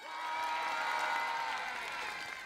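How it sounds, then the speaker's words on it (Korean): Audience at a Korean teacher-and-student charity concert applauding and cheering, a dense steady wash of clapping and shouts held loud for the full stretch. "박수와 함성!"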